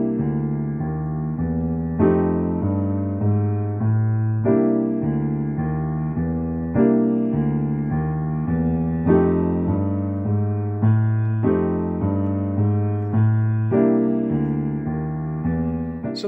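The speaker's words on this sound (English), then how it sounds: "So that's a cool jazz bass line," Solo piano playing a jazz blues walking bass line under ninth chords, steady rhythmic low notes with sustained harmony, clear and close with no talking.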